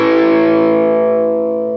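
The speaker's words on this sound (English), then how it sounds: "If I'm at full volume, and uh, I was kind of giving a bit of it away at the start there, pretty crunchy sound, pretty high distortion" Electric guitar played at full volume with heavy distortion, a crunchy sustained chord ringing out loud and alone, its dense tone slowly decaying over a couple of seconds.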